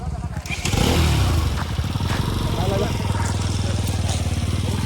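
A motorcycle engine idling and briefly revving as the bike is stopped on a roadside ride to a river picnic spot, loud and close, settling into a steady throb while people talk over it.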